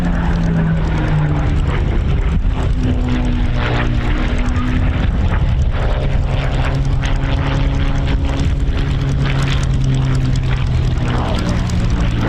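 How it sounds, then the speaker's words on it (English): A Spitfire flying lazy aerobatics over an English country airfield at an airshow, its propeller engine droning steadily and loudly throughout, pitch shifting as it maneuvers, with a voice talking over it. "watching a Spitfire doing lazy aerobatics against a blue sky on an English country airfield"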